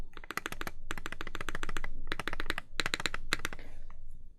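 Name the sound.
typing on Mode 80 TKL mechanical keyboard, aluminum plate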